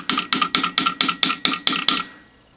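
Hammer striking a flat chisel to drive a split bushing out of a Jeep door hinge, nine sharp metallic blows in an even rhythm, close and loud, with a short ringing decay after the last strike.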